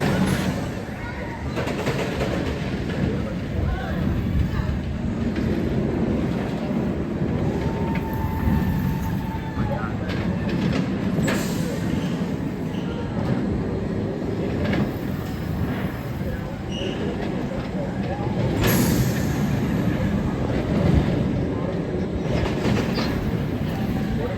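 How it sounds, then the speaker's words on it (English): Riders on the Wild Mouse roller coaster at Kings Dominion hear a steady rumble and rattle of the car on its track for the whole stretch, with sharper clacks and brief bursts of noise, while voices talk over it. "get a ride on Apple's Apple, the park's Wild Mouse"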